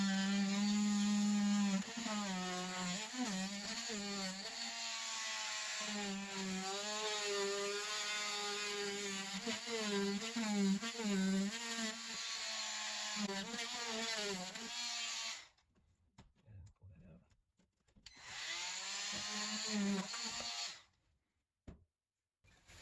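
An oscillating multi-tool cuts a hole through half-inch drywall beside a wall, a loud, close buzzing whine that wavers in pitch as the blade loads, running steadily before stopping, then briefly restarting.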